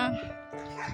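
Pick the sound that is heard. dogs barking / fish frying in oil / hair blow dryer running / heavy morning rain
dogs barking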